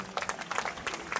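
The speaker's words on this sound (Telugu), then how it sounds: "ఊరికే చప్పట్లు కొట్టకండి, వాళ్ళు ఏదో చెప్తున్నారని" An audience at a public speech in Sangareddy claps, uneven clusters of hand claps rising and falling at moderate loudness over a noisy hall background.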